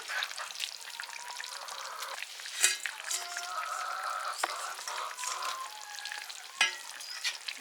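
Soft, steady sizzling from a pot of boiled green bananas as fish goes in, with a few brighter clinks and pops breaking through the quiet bubbling.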